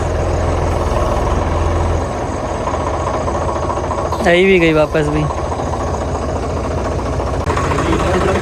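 An old John Deere tractor engine idles with a steady low rumble throughout, while people talk nearby over it.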